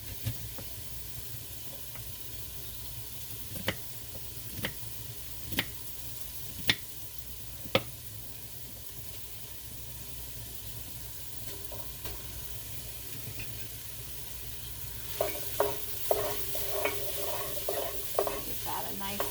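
Ground hamburger meat browning and sizzling in a frying pan for hamburger soup, with a steady frying hiss and sharp spatula scrapes and clacks as it is stirred, louder stirring toward the end.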